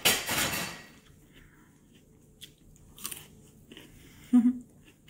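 Crunchy raw celery and carrots are bitten and chewed up close, with a loud crisp crunch at the start, then quieter scattered chewing and a few small clatters, without speech.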